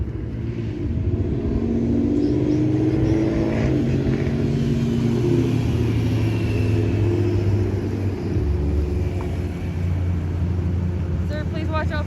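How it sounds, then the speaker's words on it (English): Road traffic rumbles along with cars passing and engines revving, a loud continuous drone under people talking. "please watch out for traffic"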